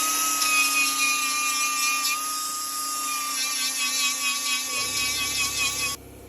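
A power tool spins a 3M Scotch-Brite abrasive wheel lightly over metal in a car engine bay, giving a steady, loud, high-pitched whine that holds for about six seconds before cutting off.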